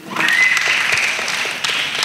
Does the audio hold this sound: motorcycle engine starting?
no